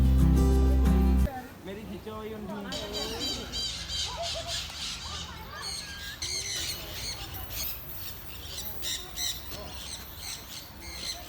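Macau parrots at a parrot park in Chandigarh give repeated harsh squawks and calls at moderate distance, overlapping with busy background noise and what sounds like people's voices.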